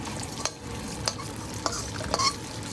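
Dry whole spices, garam masala and red chilies fry in hot oil for a gravy, a soft steady sizzle broken by a few sharp clicks of a spoon stirring against the pan.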